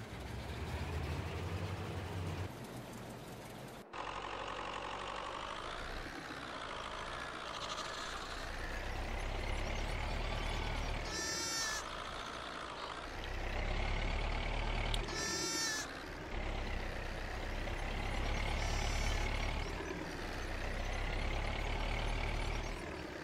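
Tractor engine in Farming Simulator 22, a continuous low diesel rumble with a brief cut near the start, then steady droning with some rising mechanical whines and faint beeping layered over it, no talking.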